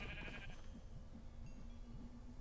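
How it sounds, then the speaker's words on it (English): A sheep in the Minecraft Dungeons video game bleats in a run of wavering, repeated calls that carry on steadily through the moment, fairly soft, with a brief higher tone at the start. "Sheep!"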